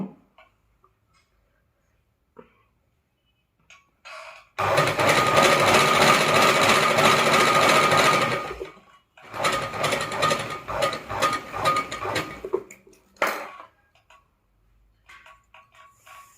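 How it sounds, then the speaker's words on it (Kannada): A sewing machine runs in two bursts, stitching beside thread piping on a square neckline. A steady rapid mechanical clatter lasts about four seconds, then a shorter, choppier run follows, with faint clicks and quiet gaps around it and no speech. "ಥ್ರೆಡ್ ಪಕ್ಕದಲ್ಲೇ ಈ ರೀತಿ ಥ್ರೆಡ್ ಪಕ್ಕದಲ್ಲೇ ಹೊಲಿಗೆ ಹಾಕೊಳ್ಳಿ."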